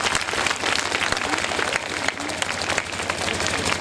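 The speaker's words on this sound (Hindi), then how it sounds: "एक बार हम लोग जोरदार ताली बजाएंगे।" A congregation at a Christmas gathering claps steadily and fairly loudly, a continuous wash of many hands with no speech over it.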